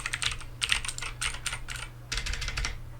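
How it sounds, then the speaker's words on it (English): Typing on a HyperX Alloy Origins keyboard with clicky blue switches, a run of sharp, bright keystroke clicks in quick bursts with a short pause, close and alone over a low steady hum. "Also want you guys to get a feel of what the keys sound like with the blue blue clicky"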